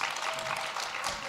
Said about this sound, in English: Guys, clap harder. Get the blood flowing.